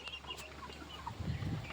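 Low, muttering clucks from local desi chickens at a poultry farm by a pond, soft and close, with a few faint higher bird calls in the background.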